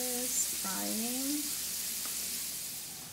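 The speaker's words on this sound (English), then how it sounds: "And then my potato is frying." Potatoes fry in a pan with a steady, close sizzle, while a brief voice-like tone rises over the crackle for the first second and a half before the frying carries on alone and slowly fades.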